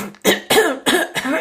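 A person coughs four times in quick succession, harsh and close, each cough a short rough burst.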